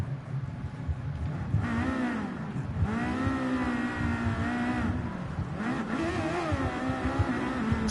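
The Mazda 787B race car in Gran Turismo 7 on PS5 wails at high revs, its engine note climbing and dropping through gear changes in a continuous, loud, sustained scream.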